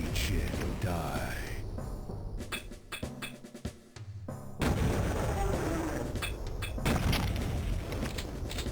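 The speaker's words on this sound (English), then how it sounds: "gather up the 4 enforcers behind the force field, and then just pipe bomb them to death" Pipe bomb explosions in Duke Nukem 3D on the Area 51 level, several loud booms and blasts in a busy stretch of game sound with someone talking over it.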